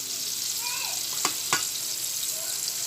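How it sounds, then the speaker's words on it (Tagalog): Ginataang labong sizzles steadily in a pan while being sautéed, with two quick scraping stirs cutting through the frying hiss. "Gisahin po, halo-haloin."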